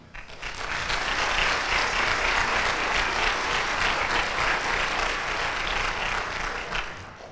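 Sustained applause from an audience at a community child abuse prevention event, a room full of people clapping steadily and loudly for about seven seconds as a speaker is welcomed to the stage, then tapering off slightly.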